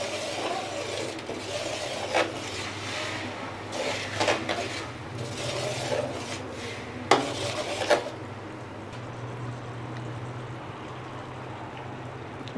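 A spoon scrapes and clatters against a pan while makhandi halwa is stirred with ghee, giving repeated bursts of metallic scraping for about eight seconds before easing into a quieter hiss.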